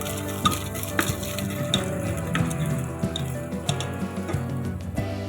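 Cashews, chopped ginger, cumin and black pepper frying in a pan, a close, steady sizzle with light crackles and occasional stirring clicks, no voices.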